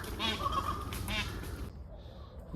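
Peacocks give two loud, honking calls in quick succession, fairly close by, before the sound drops to quiet outdoor background.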